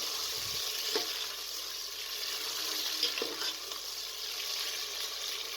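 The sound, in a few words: meat frying with onions for shaljam gosht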